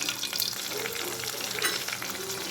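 Ground paste goes into hot oil with curry leaves in a pan for rasam, producing a dense, close, continuous sizzle with a few stirring scrapes.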